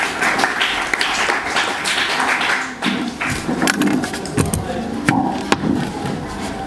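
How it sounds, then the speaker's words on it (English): An audience at a school debate breaks into steady, sustained clapping for a speaker, a dense patter of many hands that swells and continues for several seconds with a few louder individual claps. "Let's clap for him."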